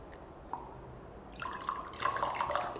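Alkaline Kangen water at pH 11.5 is poured into a container holding oil and tap water, a brief drip and then a close, gurgling trickle that grows louder toward the end, with no one speaking over it.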